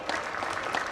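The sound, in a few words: crowd applauding at a political protest speech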